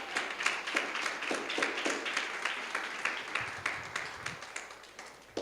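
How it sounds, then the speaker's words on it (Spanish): A church congregation applauds together, a dense run of many hands clapping at a steady, brisk pace with no voices over it, holding at a moderate level before it thins slightly toward the end. "Denle un aplauso al Señor, por favor."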